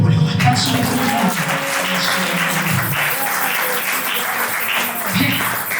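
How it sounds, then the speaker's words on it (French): A church seminar audience claps for the Lord, dense sustained applause filling the room throughout, with a voice speaking over the start. "Klatsch für den Herrn."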